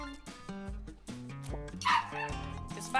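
A small white dog gives a piercing, shrill bark and then a second brief yap at the end, close by and over background music.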